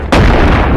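Shotgun firing in the VR game Animal Company, a single loud, close blast that cuts in sharply and rings on as a broad, sustained roar.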